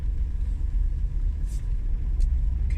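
A car approaches on a narrow hilly road called Cripple Street as light rain begins. A low, steady engine rumble dominates, with a few faint higher hisses and no speech.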